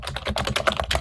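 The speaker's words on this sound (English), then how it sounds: "The keyboard clicking is so satisfying." Fast clacky keystrokes on an Aula All-Star gaming keyboard, close and crisp, in a quick uneven run of a dozen or so presses with no talk.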